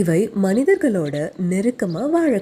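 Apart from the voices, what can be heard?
No everyday noise stands out behind the speech.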